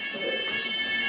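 A fire alarm sounds continuously as a steady, loud electronic tone with a fixed pitch. It carries on without a break from start to end, with a short burst of extra noise partway through.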